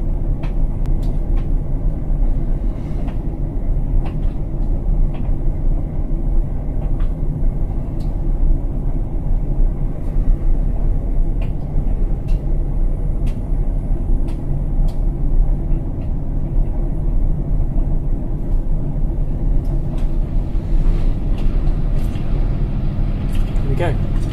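An Indesit washing machine spins after the first rinse of a cotton 60°C Eco Time wash, a steady low rumbling drone that holds throughout with a slight uneven thumping from an unbalanced load.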